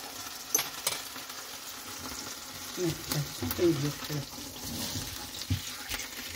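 A pork slice sizzles in a frying pan with onions as it is turned over, a steady close fry with a few scraping stirs and clatters partway through, and a voice speaks over it.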